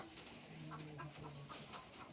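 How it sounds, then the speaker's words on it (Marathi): Chickens cluck in short, soft bursts against a steady background hum, faint and somewhat distant, without any talking. "कोंबड्या ए राहू दे कोंबड्यांचं काय कर नको"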